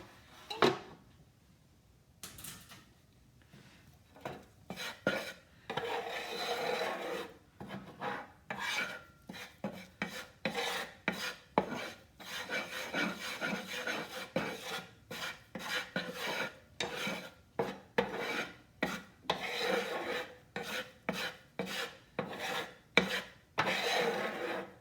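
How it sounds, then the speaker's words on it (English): A metal spatula scrapes a griddle clean after bacon was cooked, giving a long run of quick, rasping strokes in an uneven rhythm. The scraping is close, fills the whole stretch, and carries no speech. "cleaning up your griddle"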